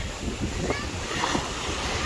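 Surf washes and rumbles continuously with wind buffeting the microphone, while a person speaks over the waves.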